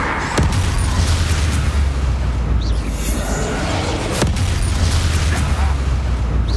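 Heavy booming blasts from the Bombarda explosion spell in Hogwarts Legacy, a dense, loud rumbling roar with sharp explosive cracks near the start and again later, over continuous battle noise.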